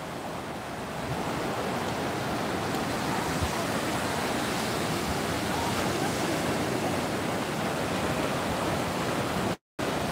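Waves roll onto a sandy Myrtle Beach shore in a constant, even wash of surf noise with light wind, broken by a brief dropout near the end.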